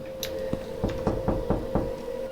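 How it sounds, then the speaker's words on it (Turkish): Knocking on a door: a series of about six evenly spaced, fairly loud knocks heard close by over a steady background hum, with no talking. "Kapıyı kim çaldı?"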